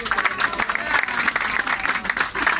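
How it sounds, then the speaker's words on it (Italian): An audience claps steadily in a dense, continuous round of applause at an Italian awards ceremony for farms of the Terre di Peranzana. "Un applauso."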